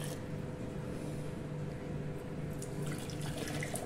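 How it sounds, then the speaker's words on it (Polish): Boiling water poured from a kettle into glass jars in a home kitchen while preparing them for preserves, a steady, faint splashing stream running throughout. "ja rozleję tą wodę po prostu"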